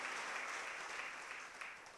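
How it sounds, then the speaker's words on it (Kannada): Sustained clapping from a gathered audience at a spiritual discourse, an even, continuous patter heard faint and distant with no voices over it. "ಎಲ್ಲರಿಗೆ ಜೋರಾಗಿ ಚಪ್ಪಾಳೆ ತಟ್ಟಿ ಅಭಿನಂದನೆ"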